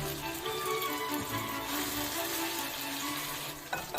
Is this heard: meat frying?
yes